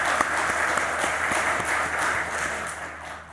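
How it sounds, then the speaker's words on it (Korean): Steady congregational applause in a Korean church service welcoming a missionary family, a continuous wash of clapping at moderate level that tapers slightly near the end. "다시 한번 박수로 환영하겠습니다"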